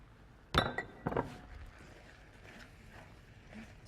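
Pasta and broccoli stirred in a skillet for mac and cheese, with two sharp utensil clinks against the pan followed by soft, quiet scraping.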